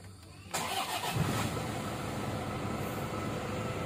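A Toyota car engine with a fuel delivery fault cranks and catches about half a second in, then settles into a steady, close idle running alone for the rest of the clip.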